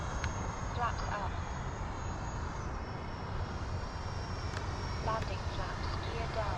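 An FMS F-86 Sabre 80mm EDF RC jet descends to land, its electric ducted fan giving a steady high whine and airy rush at moderate distance, with a voice talking over it.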